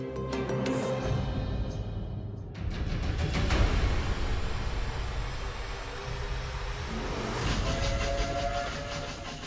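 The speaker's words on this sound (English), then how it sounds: "We're on a beautiful carriage train." A carriage train rolls steadily along the rails with a continuous rumble and some rhythmic clatter, loud and close throughout, with brief brighter accents partway through.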